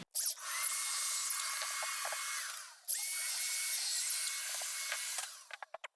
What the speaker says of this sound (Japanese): 墨が消えるように切ります